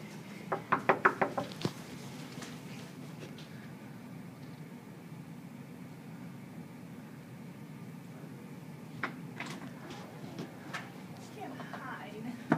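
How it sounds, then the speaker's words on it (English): Knuckles rap on a door in a quick burst of about five or six close knocks, and fainter taps and rustles follow over a low steady background hum. "Knock on the door."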